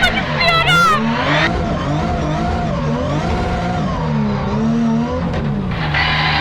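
A car drifts with loud, wavering tire squeals over a steady engine roar, the screech sliding up and down in pitch, while people talk and laugh inside the car.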